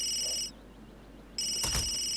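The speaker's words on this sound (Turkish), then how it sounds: "Şu an Aiden'ın telefonu çalıyor." A phone rings in The Sims 3 video game: bright electronic ring tones, then a short pause, then the ringing again with a small chirp, clear and alone.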